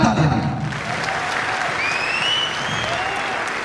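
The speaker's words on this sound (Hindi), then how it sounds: "एक बार जोरदार तालियां" Audience applause at a business promotion event, steady and fairly loud through the whole stretch, with faint voices underneath.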